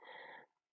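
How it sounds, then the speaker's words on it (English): A pet dog lets out a short, low growl up close, lasting under a second, alone in an otherwise quiet room. "Please excuse my dog."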